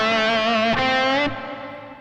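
Distorted electric guitar playing a blues lick with bent notes, a sustained pitch bending slightly, struck again mid-phrase before the note fades; close and loud with no talking.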